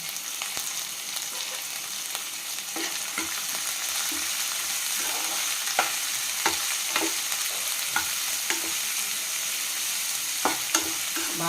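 Chopped vegetables for veg manchurian fry and sizzle steadily in a hot pan, with scattered stirring clicks and scrapes over a continuous hiss, close and moderately loud, and no talking.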